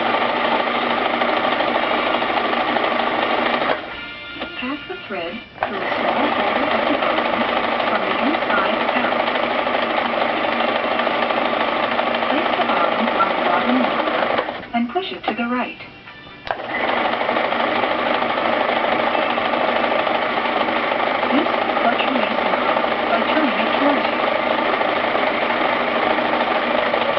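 A Brother XL 2030 sewing machine winds thread onto its bobbin with a steady, continuous mechanical whir at close range, twice briefly interrupted by short pauses.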